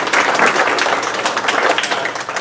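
Brief round of applause from a small group at a joint town and village board meeting, steady scattered hand clapping filling the room at close range without any voices over it.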